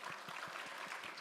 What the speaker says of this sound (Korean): 큰 박수로 축복해 주시고